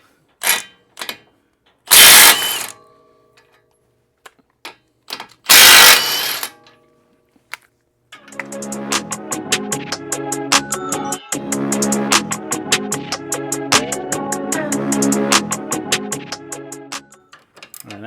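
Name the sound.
ratchet removing two 24 bolts on Ford Explorer suspension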